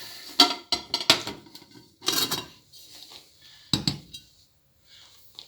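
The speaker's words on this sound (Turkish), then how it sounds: "Tenceremizi çıkartalım arkadaşlar." A metal cooking pot is taken out, clanking and knocking against other pots and pans in a series of sharp, close clatters with pauses between, like cookware being pulled from a cupboard.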